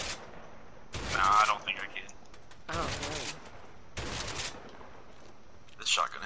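Shotgun blasts in the co-op video game A Way Out, several sharp broadband bursts spaced about a second apart, loud against a quiet game background with a brief extra pop near the end.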